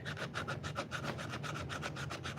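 A knife blade being sanded by hand with 80 grit sandpaper, a steady rapid back-and-forth rasping of short strokes, close and continuous, with no talking.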